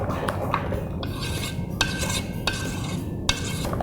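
Thick jackfruit ice cream mixture stirred in a pot, a continuous close rasping and scraping of the spoon with a few sharp clinks against the rim, no voices.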